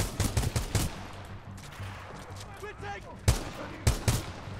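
Gunfire in the video game Titanfall 2 Frontier Defense arrives as clusters of loud automatic bursts at the start and again near the end, with quieter game sounds in between and a voice partly speaking.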